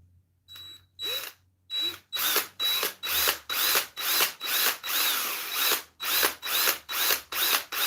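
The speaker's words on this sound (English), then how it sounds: "We're going to try not to drill into my hand." A power drill bores into a hand-held workpiece on a lathe-turning bench, in about a dozen loud, evenly spaced bursts, each a rising whine with a ratcheting mechanical edge, broken by short pauses, with no talking.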